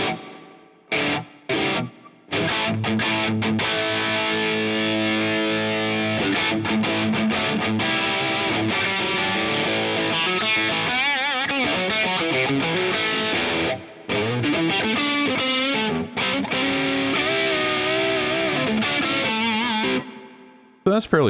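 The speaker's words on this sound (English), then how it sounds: "Let's put some reverb on there." Electric guitar played on the bridge pickup through the GigFast Mobile amp app with reverb added, distorted chords and sustained notes ringing out with short pauses and a few abrupt stops, the player alone.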